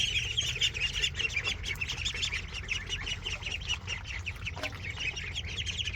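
Ducks in a brooder tractor quack steadily and busily throughout, a dense close flock chattering with overlapping calls over low farmyard rumble, with no talk.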